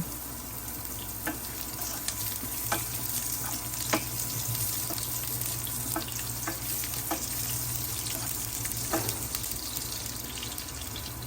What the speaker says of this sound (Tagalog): Bawang po muna ang ating gigasahin. Pagkatapos naman po, ito na po, sibuyas na po ang aking inilagay.